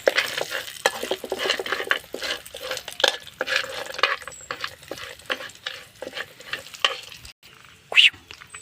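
A mixture sizzles in a cooking pan as a utensil stirs it with quick scraping strokes and light clinks against the metal, close up, with a brief pause near the end before a final clatter.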